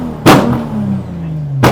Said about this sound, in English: So it does like it's like a backfire mode.